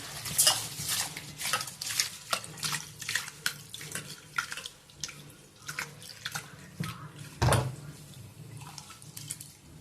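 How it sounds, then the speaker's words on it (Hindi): Tap water runs and splashes in bursts as rice is rinsed in a kitchen before cooking, with irregular close splashes and a few louder sloshes. "दो तीन पानी से साफ करके धो के।"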